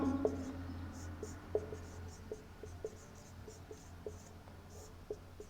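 Pen writing on paper during a Class 12 physics lesson, a series of short, crisp scratching strokes at an irregular pace, close and fairly quiet, with a faint steady hum underneath.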